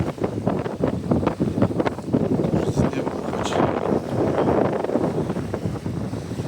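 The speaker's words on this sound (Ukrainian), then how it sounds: "сильний вітер хоч" Strong early-morning wind by a large lake at a campsite buffets the microphone in a constant, heavy roar with gusty surges throughout.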